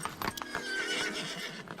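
A horse neighs and whinnies loudly and close by, with hoof clops and stable movement around it, no talking.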